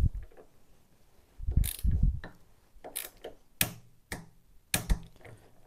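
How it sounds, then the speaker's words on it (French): A torque wrench tightens a nut to 15 Nm on the fuel tank mounting of a Yamaha FJR 1300 motorcycle. Close, sharp ratcheting clicks and metallic clacks come in irregular bursts, with pauses between strokes and no talking. "vous prenez votre clé, 15 Nm, on vient bloquer d'un côté et serrer notre écrou de l'autre côté à 15 Nm"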